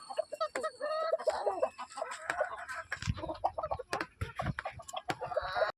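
Egg-laying hens on a poultry farm cluck and squawk close by in a busy, irregular chorus, with sharp calls scattered throughout.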